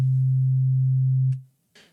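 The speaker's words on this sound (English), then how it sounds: "If we play back a note, we can see our fundamental very clearly with a sine wave." A pure sine-wave sub bass note from a synthesizer holds steady and loud for about a second and a quarter, then fades out, followed by a brief soft click and a short burst of faint noise.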